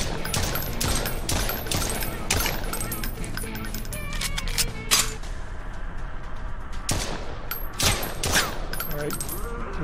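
Gunfire rings out in Lop Nor Zombie, a VR zombie shooter played on an HTC Vive Pro, rapid sharp shots in bursts with metallic clanks and echoing tails, loud and close throughout, with voices partly in the mix.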